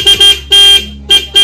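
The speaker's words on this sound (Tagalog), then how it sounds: "yan po yung loud horn" A loud, piercing aftermarket car horn honks in four bursts, two short, one long, then another short pair, with brief gaps between them.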